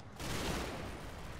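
A burst of gunfire from the Combat Mission war game sets in after a short pause and holds as a dense, rumbling volley, fairly quiet and steady throughout.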